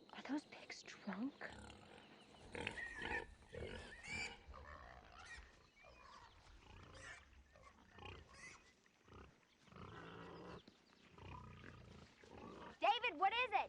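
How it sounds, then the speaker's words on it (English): Pigs grunt and squeal in a loose, irregular run, close and fairly loud, mixed with people talking over them. "Are those pigs drunk?"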